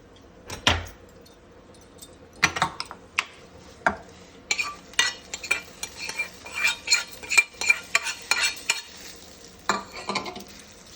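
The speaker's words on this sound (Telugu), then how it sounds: "ఈ పోపు కూడా వేసేసుకుందాం." Tempering for curd rice being stirred into cooked rice in a bowl, with irregular spoon scrapes and clinks against the bowl, close and fairly loud with short pauses between strokes.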